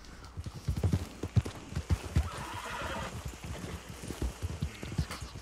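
A white horse whinnies in a long drawn-out neigh amid repeated clip-clop hoofbeats in Red Dead Redemption 2, fairly close, with no talking.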